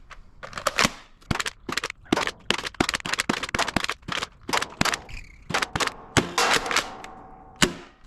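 A Nerf Pro Torrent blaster fires Dart Zone darts in a long run of sharp, punchy shots, loud and close, with a few rapid clusters and brief pauses between them.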